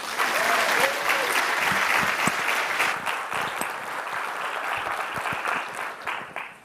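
An indoor audience at a nursing leadership talk applauding to welcome Dr. Pat Yoder-Wise, loud sustained clapping from many hands that slowly thins toward the end.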